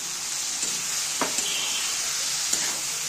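Fried vegetables tipped into a pan of cooking spices for a vegetable mung dal, giving a steady hiss of frying with a few soft stirring scrapes, close and continuous with no talk.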